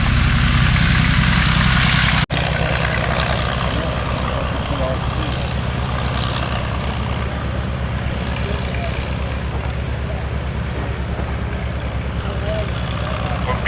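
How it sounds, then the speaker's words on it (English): The original Mercedes engine of a 1918 Fokker D7 biplane runs close and loud, a steady droning roar with a sharp shift in tone after about two seconds before settling into an even, throbbing run. "Covalent 1918 Fokker D7, original Mercedes aircraft engine on this aircraft."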